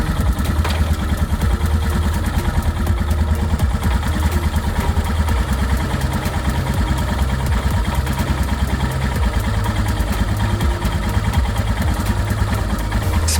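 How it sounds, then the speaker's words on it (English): A Royal Enfield Himalayan motorcycle engine idles steadily in first gear, a low continuous rumble with faint mechanical clatter, close and fairly loud, no voices. "And now start the engine and put on first gear."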